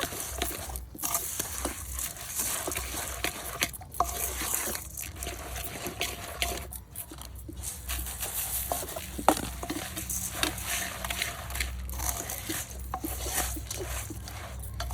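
Puffed rice stirred into hot banana jaggery in a pan, giving a steady close-up crackle and crunchy rustling with soft sizzling that runs without pause.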